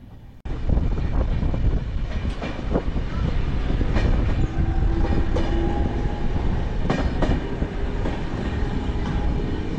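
A passenger train on the Kolkata to Shimla route running on rails, with a continuous close rumble and scattered rhythmic clacks and thumps throughout, no voices.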